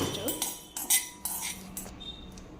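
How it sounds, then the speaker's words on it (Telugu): Urad dal dry roasting in a pan, stirred with a metal spoon, giving several sharp clinks and scrapes against the pan in an uneven rhythm, close and fairly loud. "ముందైతే మినపప్పుని డ్రై రోస్ట్ చేసుకుందాం"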